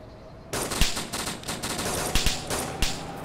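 Automatic rifle fire in the video game DayZ aimed at a truck, a loud sustained burst of rapid shots starting abruptly and continuing for several seconds, with a few harder individual cracks standing out, close and without talk.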